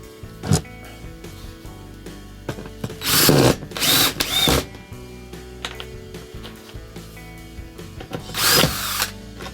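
Power drill driving 1.5-inch screws into a loft ladder frame, several loud whirring bursts of a few seconds each separated by quiet gaps with small clicks and handling noises.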